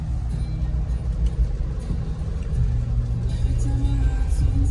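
A large car driving in rain, with a steady low engine rumble and road noise that grows slightly louder partway through, no voices.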